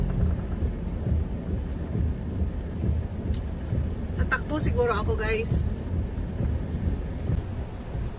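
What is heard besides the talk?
heavy rain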